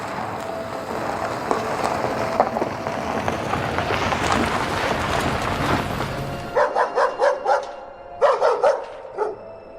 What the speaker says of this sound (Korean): 이내 익숙한 개 짖는 소리가 들려왔습니다